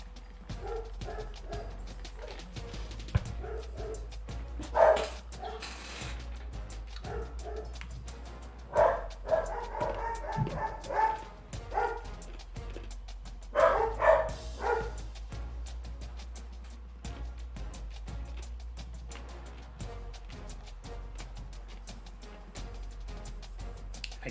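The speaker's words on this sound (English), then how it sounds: "I can't with the barking sometimes with these dogs." Dogs bark in several short bursts, fairly faint and distant, amid quiet background noise.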